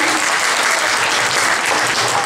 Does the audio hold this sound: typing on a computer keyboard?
no